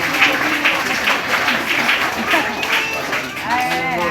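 A church congregation applauds the Lord in dense, lively clapping that fills the room, with voices speaking and calling out among the crowd throughout.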